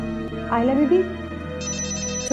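A telephone rings indoors with a steady electronic ringtone, fairly soft and clear, beginning partway through and continuing to the end, with a voice speaking before it starts.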